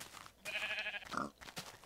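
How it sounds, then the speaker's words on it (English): Minecraft sheep bleating twice in quick succession, a wavering nasal bleat followed by a shorter one, fairly quiet and alone with no talk over it. "I can be nice to the sheep. Hello, nice sheep."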